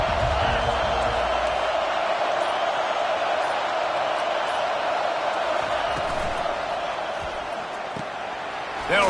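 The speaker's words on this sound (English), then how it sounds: "This crowd bringing an ear-splitting welcome to their visitors." A packed stadium crowd at a college football game roars continuously, a loud, dense, unbroken wash of cheering that holds steady throughout, with a commentator's voice faintly mixed in.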